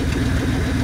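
A V8 Mercury Comet, a shed find that sat for 31 years and has one long and one short exhaust, idles while warming up. The steady, close, low rumble has a slightly uneven pulse.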